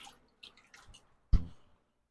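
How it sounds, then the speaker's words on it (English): Water drips and splashes in a few soft, scattered drops while plants are watered, ending with one louder splash before quiet. "So I'm just going around watering whatever really needs water."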